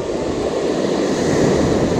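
Ocean surf breaking on a sandy beach during shore fishing, a loud, continuous wash of rushing water with no pauses and no voices.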